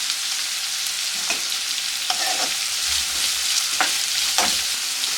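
Onions frying in a pan for tomato rice, a steady bright sizzle running throughout with a few short stirring scrapes near the pan, no voices.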